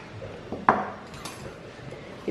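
Spoon scraping against a bowl while noodles, rava and curd batter are mixed for spaghetti dosa, a single sharp clink followed by soft stirring, close and without voices.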